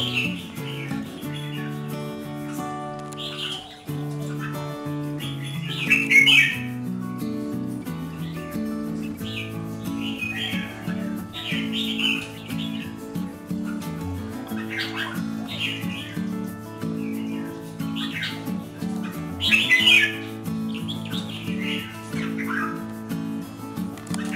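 Baby white-eye birds chirp near a house window, with high short calls coming in scattered bursts over sustained background music, and a few sharper, louder calls standing out.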